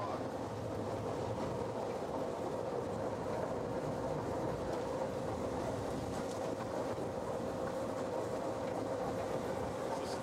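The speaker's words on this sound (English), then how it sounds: "Winston Churchill train was built in 1992" The Blenheim Palace Railway train, the Winston Churchill built in 1992, runs with a steady, continuous rumble and rolling rail noise throughout, with faint voices in the background.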